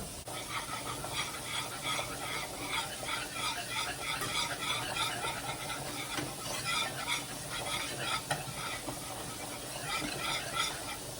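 Oil heating in a pan with flour, sizzling and crackling steadily and fairly close, with occasional stirring and utensil scrapes, during a home cooking session for smothered fried lobster and king crab legs.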